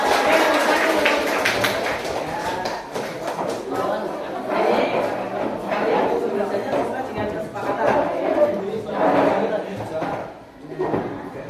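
A group of people cheers and claps together, with scattered hand claps and voices mixing in a lively, fairly close crowd noise.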